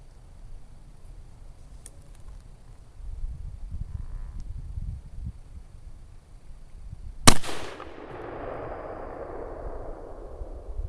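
A single bolt-action rifle shot at an outdoor shooting range cracks out loud and close, then trails off in a long fading echo, with low rumbling handling noise before it.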